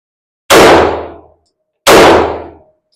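Two loud pistol shots fired about a second and a half apart during a U.S. Navy pistol qualification, each a sharp crack with a short ringing decay, close and alone.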